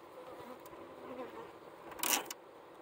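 Honeybees from a captured swarm fan inside a box, a faint, soft insect buzz and hum heard from close by, with a brief louder rustle near the end.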